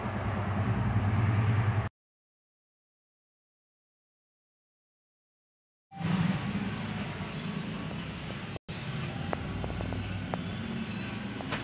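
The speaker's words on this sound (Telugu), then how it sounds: "బీప్ సౌండ్ వస్తుంది" A digital thermometer held in hot water gives repeated short, high-pitched electronic beeps in an evenly spaced series over a low background hum, after a stretch of near silence.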